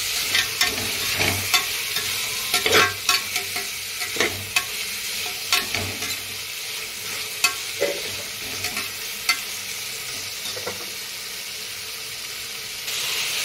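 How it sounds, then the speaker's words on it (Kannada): Tomatoes hit a pan of frying mushroom biryani masala, bringing a steady sizzle with repeated scraping stirs and clinks of a spoon against the pan, close up and with no talking. "ಟೊಮೆಟೊ ಹಾಕ್ತಾ ಇದ್ದೀನಿ"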